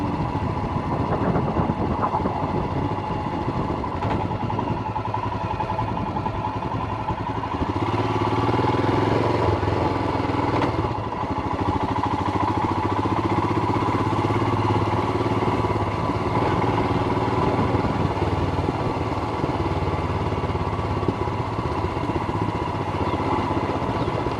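A motorcycle rides through a mountain valley in Himachal Pradesh, its engine droning steadily and loudly up close for the whole stretch with wind rush, shifting slightly in pitch but never stopping.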